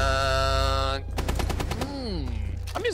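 Video game gunfire, rapid bursts of shots crackling over in-game tonal sounds and sweeping effects, fairly loud and close.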